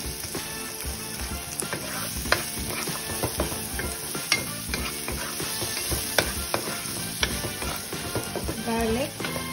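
Onion and garlic sauté for mung bean stew, a bright sizzle under frequent clinks and scrapes of a utensil against the pan, with background music playing throughout.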